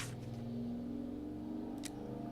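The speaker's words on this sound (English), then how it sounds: "What's a fucking loud car outside?" A loud car outside, its engine droning and rising in pitch as it passes, a steady mid-range roar heard indoors and fairly muffled.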